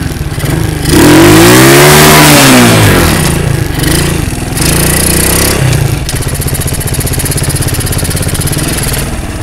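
A motorcycle engine on a campsite revs hard, loud and close, its pitch sweeping up and down in rising and falling bursts before settling into a rough, steady idle putter.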